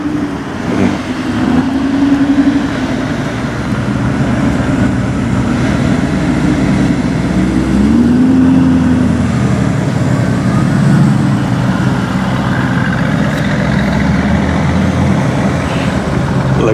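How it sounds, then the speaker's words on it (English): Corvette driving by with its multi-level exhaust note, a loud sustained engine rumble that swells and rises in pitch as the car passes close, with no talk over it. "The multi-level exhaust note."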